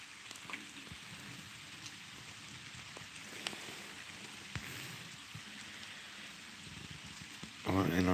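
Steady rain falls on an outdoor surface as a dense, even hiss with scattered louder drops, and a voice starts speaking right at the end.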